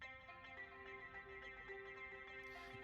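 A piano loop, pitched down and set into a quiet mix, plays soft repeating notes over sustained tones and a gentle rhythmic backing, with no voices.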